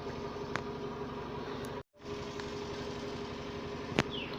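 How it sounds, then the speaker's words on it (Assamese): A tractor engine runs nearby as a steady, continuous low drone, fairly faint, with a brief cutout partway through and a couple of small clicks. "ইমান ট্ৰেক্টৰৰ চাউণ্ডটো ইয়ালৈকে কাণত ধৰিছে"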